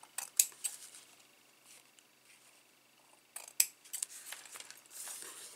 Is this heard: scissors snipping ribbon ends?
yes